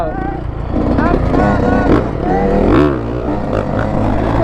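A small dirt bike, a knee knocker, revving and riding in a lot, its buzzing engine rising and falling in pitch close by, with voices talking over it.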